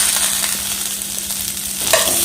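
Onion, curry leaves and roasted gram sautéing in a hot pan, a steady close sizzle broken by a few soft stirring scrapes.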